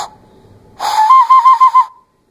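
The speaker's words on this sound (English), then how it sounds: "So he's whistling, and now let me cover up his mouth." A clay whistle's breathy tone holds, then, with its mouth covered, a burst of airy, warbling notes pulses about five times before cutting off; fairly loud and close.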